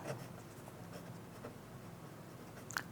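Pen writing equations by hand on paper, a continuous soft scratching with short strokes, close and quiet with no voice over it.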